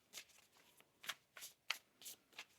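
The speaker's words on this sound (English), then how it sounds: "Let's get one more shuffle here." A deck of oracle cards is shuffled by hand in several quick riffling bursts, each a short papery flutter separated by brief pauses, quiet and close.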